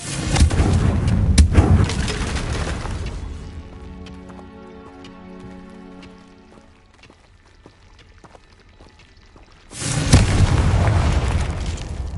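Confringo fire spell blasts in Hogwarts Legacy: a loud burst of fiery explosions at the start, a quieter stretch with ringing game music, then another heavy blast near the end.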